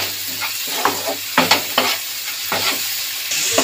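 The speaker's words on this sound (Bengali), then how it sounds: "এই মশলাটাকে নাড়িয়ে চাড়িয়ে ভালো করে কষে নেব।" Spice paste of soaked Kashmiri chilli powder stir-fried in a pan, with a steady sizzle broken by repeated sharp scraping strokes of a spoon at an uneven rhythm, close and fairly loud, no voices.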